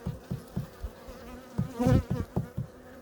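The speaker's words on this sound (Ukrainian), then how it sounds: "Ось так зимує українська степова від Бабенка" Ukrainian steppe honey bees in a wintering hive, their buzz rising and falling close by, with soft rhythmic knocks and bumps around the hive and a brief louder swell of droning.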